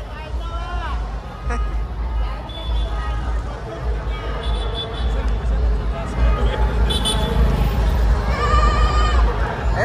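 A goat bleats several times amid a noisy crowd at a palanquin procession, the wavering cries rising over constant babble and voices throughout.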